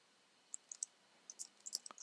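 Quiet, sparse keyboard typing on a computer running Kali Linux, a handful of light clicks in an irregular burst, faint and close with no voices.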